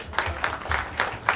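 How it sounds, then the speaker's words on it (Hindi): Applause for Annu aunty, a 71-year-old woman, in a training gathering: a short burst of scattered hand claps from a small group, fairly close and moderately loud. "तालियां बजा दो एक बार उनके लिए"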